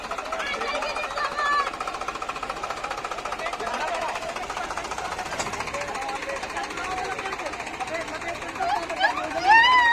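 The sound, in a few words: Eicher 551 and Mahindra 575 tractor engines straining in tug-of-war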